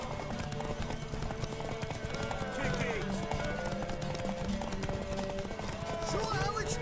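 Hooves clip-clop at a steady galloping rhythm in The Witcher 3, close and continuous beneath game music, with in-game voices speaking over the ride.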